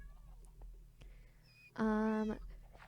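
A cat in Minecraft gives one clear, loud meow lasting about half a second, set against quiet background clicks and faint game sounds.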